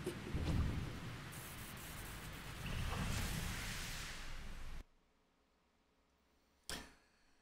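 A lightning attack from the video game Mario Golf: Super Rush cracks into a loud, rumbling thunder burst with rain-like noise, cuts to near silence, then one more sharp crack strikes.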